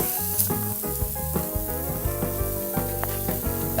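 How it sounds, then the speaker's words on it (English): Pork sausages sizzling on a hot breakfast griddle, a loud, close, continuous crackle and spatter of frying fat with no voices. "Let's put some pork sausages in here."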